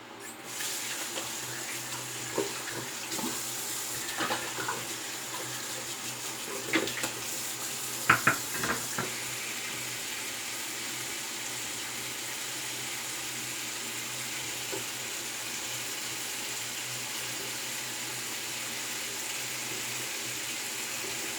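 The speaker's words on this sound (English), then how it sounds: "Okay, we'll rinse that. Yeah, rinse my face off." Tap water runs into a sink while a face is rinsed after a shave, a quiet continuous hiss with a few splashes and clinks in the first half, then steady flow.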